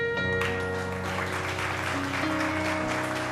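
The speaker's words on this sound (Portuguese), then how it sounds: "vai receber os aplausos do nosso público agora" Audience at a municipal council ceremony in Vitória applauding, a steady wash of clapping for a few seconds mixed with sustained musical tones in the background.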